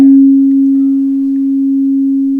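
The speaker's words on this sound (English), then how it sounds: "These bowls are tuned to 432 Hertz." Crystal singing bowl tuned to 432 Hz rings out alone as one pure, steady sustained tone, loud and close, with a soft strike at the start and a long even hum that barely fades.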